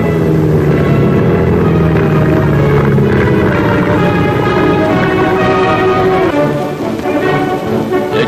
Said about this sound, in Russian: Еще один морской самолет, летающая лодка.